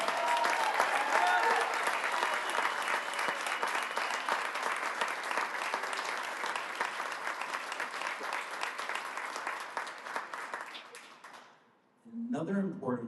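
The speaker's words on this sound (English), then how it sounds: "Everybody, please give a huge round of applause for Mia Hassan!" A large audience claps steadily and loudly for about eleven seconds to honor a soccer player from a Unified soccer team. The clapping fades out, and then a voice starts speaking.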